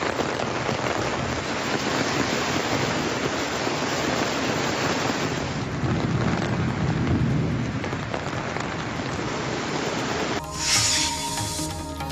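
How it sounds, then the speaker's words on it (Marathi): Heavy rain pours in Badlapur in a dense, loud, unbroken roar with low rumbling thunder rolling underneath, and the storm carries on without voices until a short cut near the end. "ढगांच्या गडगडाटासह जोरदार पाऊस बदलापुरात सुरू आहे"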